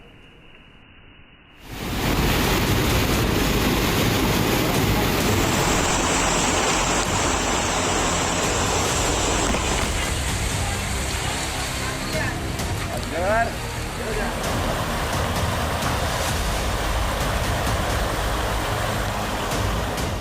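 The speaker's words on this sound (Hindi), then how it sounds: "भीषण बारिश के बाद आई बाढ़ ने तांडव मचा दिया" Floodwater rushing after heavy rain: a loud, continuous broadband roar of churning water begins abruptly after a short quiet opening and holds steady to the end, with a faint voice partly beneath it.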